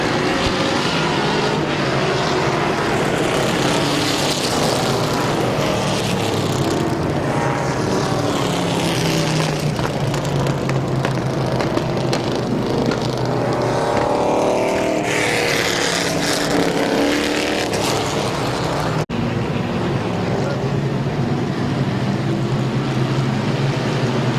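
Race cars at Midvale Speedway roar around the track in a dense, continuous wall of engine noise, loud and sustained, with pitch swells as cars pass and no talk.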